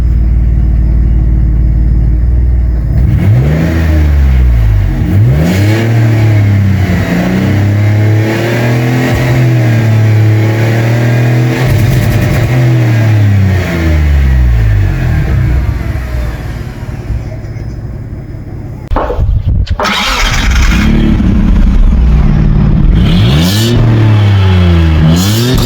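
A Gazel van's 2.7-litre V6 petrol engine runs and revs loudly up close, climbing and falling through several rises in pitch, with a brief dip before the revving resumes.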